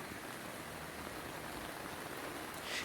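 Heavy rain falls steadily around a villa property near CUSAT Metro station in Kochi, a dense, even hiss of downpour that fills the whole moment without any talk.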